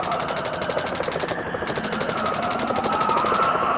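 Continuous rapid gunfire from a fighter jet in a VR flight game on Oculus Quest 2, a dense, steady rattle that briefly cuts out and resumes over a constant engine drone.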